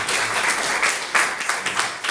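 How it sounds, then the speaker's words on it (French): A church congregation claps to welcome visiting brothers, a brief burst of dense, lively applause close by, with a few louder sharp claps standing out toward the end. "on peut applaudir pour accueillir"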